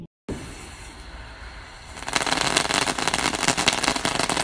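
Fourth of July fireworks crackle and pop in a dense, continuous rattle that starts faintly and grows louder after a couple of seconds, heard outdoors at a moderate distance.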